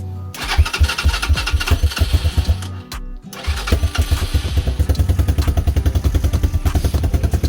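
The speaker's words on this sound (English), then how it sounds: "So I'm gonna go with another cold start though. 223." A Lifan 223 engine (165FMM) on a mini bike mock-up is cold-started without choke, firing after a brief stumble and a short gap, then settling into a loud, close, steady chugging idle.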